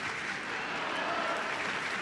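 Spectators at the Roland-Garros women's final applaud steadily, a moderately loud wash of clapping from the stands that holds without a break.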